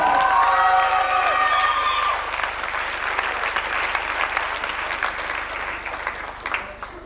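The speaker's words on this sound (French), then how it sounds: "On peut applaudir Jean-Philippe Couturier pour Maître Corsaire" A theatre audience at a 1998 stage play claps and cheers for the cast during curtain calls. Voices shout and whoop at the start, then sustained, dense applause continues at a fairly even level.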